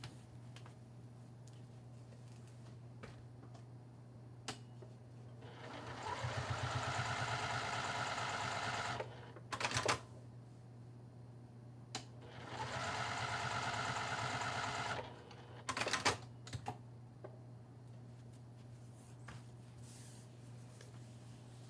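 A sewing machine machine-quilts fabric strips with white thread for a bag, two bursts of fast stitching a few seconds each separated by quiet pauses and small clicks of handling, over a low steady hum.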